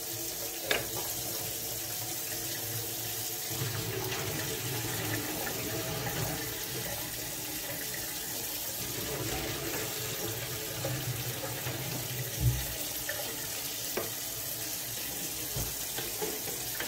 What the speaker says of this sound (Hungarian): le fogom szűrni, illetve leöntöm róla a vizet